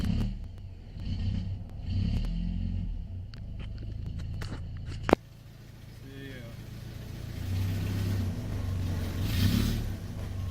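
A vehicle engine is started after a gauge install: a sharp click and crank, then a steady, low idle that hums on, close by, with scattered knocks and shuffling earlier.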